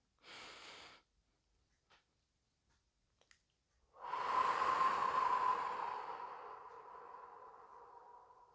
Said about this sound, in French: toujours prendre 2-3 respirations pour amener plus de calme